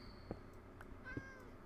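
Short, quiet meows from a black and white Minecraft cat near a sandstone desert base, two or three brief calls over soft background noise with no talking.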